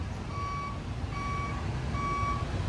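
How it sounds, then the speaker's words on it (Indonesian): Reversing beeps from a fire truck at a building fire in Padang, West Sumatra: three evenly spaced, loud electronic tones repeating over a low engine rumble and background crowd noise. "ada truk pemadam memadamkan api"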